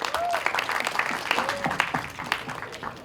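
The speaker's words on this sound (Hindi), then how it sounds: "भूषण जी को एक बार जोरदार ताली चाहिए" An audience at the Border 2 teaser launch breaks into loud applause for Bhushan ji, dense crowd clapping mixed with scattered whistles and shouts, close and lively for a few seconds.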